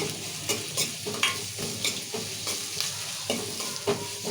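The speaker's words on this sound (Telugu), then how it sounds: "చికెన్ కర్రీకి ఉల్లిగడ్డలు ఎర్రగా మగ్గితేనే మంచిగా అవుతుంది" Onions frying for chicken curry, sizzling steadily in hot oil while being stirred at regular intervals, close and clear with no voices.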